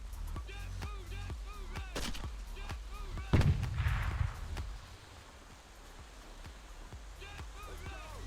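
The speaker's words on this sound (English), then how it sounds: "Grenadier, of course, is pumping high explosive into that house at this point." In a video game, a grenadier fires high explosive rounds into a house, producing repeated sharp blasts and booms of gunfire with one heavy explosion midway, set against continuous battle background noise.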